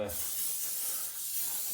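GT85 lubricant sprayed onto a log burner hearth gives a steady aerosol hiss that runs unbroken and fairly close throughout.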